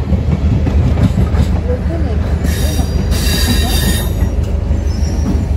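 A train rolls past near Kolhapur with steady loud rumble and high-pitched wheel squeal rising and fading throughout, rhythmic rail clatter underneath, close and continuous.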